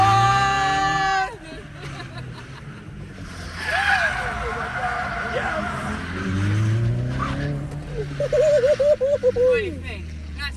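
A Corvette ZR1 accelerates hard with a synthesized engine sound piped into the cabin, a rising and falling tone sweeping upward through the run, with people talking over it inside the car.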